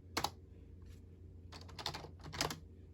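A keyboard key press while using Blender 3D software, sounding as a few crisp clicks in separate bursts, the strongest near the start and a pair of clustered taps toward the end, over quiet room tone.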